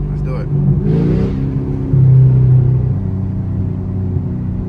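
A 2016 Chevrolet Camaro SS V8 accelerates with a deep, loud engine rumble that swells and surges, while an excited voice talks over it.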